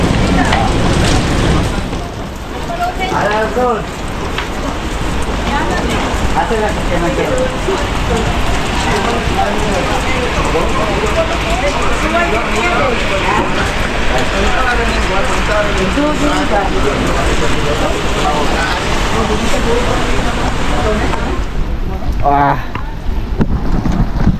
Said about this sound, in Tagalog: Umulan mga kajoks.